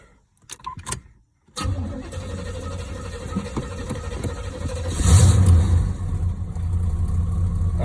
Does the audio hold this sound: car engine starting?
yes